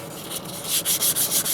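Short rhythmic rubbing strokes of an abrasive pad across wood on an epoxy-centred piece, close and fairly loud, a few quick back-and-forth passes.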